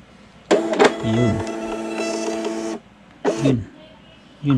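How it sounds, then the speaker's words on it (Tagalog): A waybill thermal label printer runs a print job, giving a loud, close mechanical whir that lasts about two seconds after a brief start, followed by two shorter feed bursts a moment later. "I-click mo na yung print."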